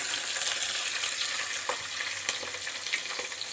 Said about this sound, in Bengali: এবার দেব পেঁয়াজ কুচনো পেঁয়াজ আমি দিয়ে দিলাম।